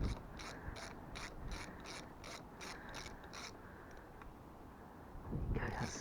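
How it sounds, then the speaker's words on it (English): Two 10mm ratchets undo a bolt on a Yamaha Fazer FZS600 motorcycle, giving a quick run of rhythmic pawl clicks, a pause, then a rougher rattling burst near the end. "It's 10mm, so using 2 ratchets."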